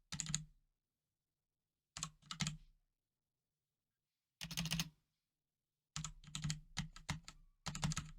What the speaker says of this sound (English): the 6 button on my keyboard doesn't appear to be working